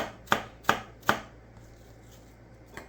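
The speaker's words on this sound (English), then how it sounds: "we're going to go ahead and get these diced up nice and small" A knife chopping onion on a cutting board, three sharp evenly spaced chops close up, then quiet with one faint final tap.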